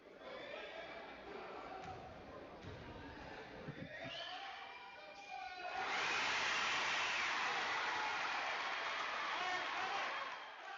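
A high school basketball crowd in McAlester erupts after the Buffaloes' comeback win over Broken Bow, a loud sustained roar of cheering that swells midway and stays up, with quieter commotion before it.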